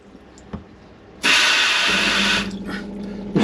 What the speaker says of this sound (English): We'll just check our tap.